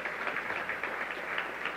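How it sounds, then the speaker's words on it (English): An audience at the Chamber of Commerce Economic Forum 2019 applauds in a steady, dense burst of clapping that continues evenly for the whole stretch, with no voices over it. "I think you should give her a round of applause just for that."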